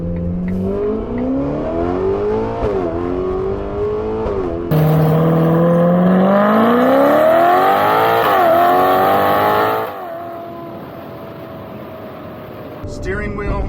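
Ferrari Roma V8 with an upgraded exhaust being revved, a deep, loud burbling engine note rising and falling through several throttle blips, then settling back to a low idle rumble.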